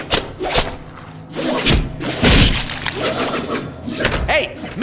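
Melee attacks landing on goons in the Deadpool video game: repeated heavy thuds, whacks and swishes in an uneven flurry, with voices talking over the fighting.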